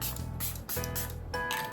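A spray mist bottle puffs out several quick bursts, each a short hissing spray with small plastic clicks, in an uneven rhythm close to the microphone.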